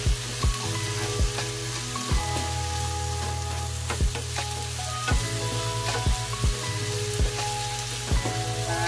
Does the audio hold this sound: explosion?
no